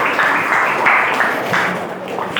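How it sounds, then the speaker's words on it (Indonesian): Students applauding in a classroom, a steady patter of clapping from a group that rises and falls in a few surges, loud and close. "Tepuk tangan dulu buat Renard."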